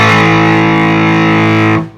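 Distorted electric guitar through an Epiphone SoCal 50 all-tube amp with the treble turned up, a loud sustained chord ringing steadily for nearly two seconds before cutting off abruptly.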